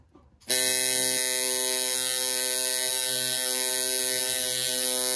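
Coil tattoo machine with magnetized coils switched on after a brief quiet moment, then buzzing loudly and steadily with a strong humming drone close to the mic, no speech.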